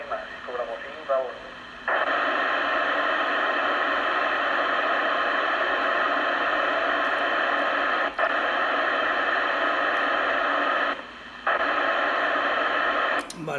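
An amateur radio repeater in the Marina Baixa area sends out a long, loud squelch tail of hissing static. A short burst of voice comes first, and the carrier drops out briefly twice before the static resumes.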